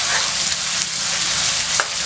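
Two large finely chopped onions fry in hot oil for an egg curry, giving a steady, close, crackling sizzle throughout, with one brief higher scrape near the end.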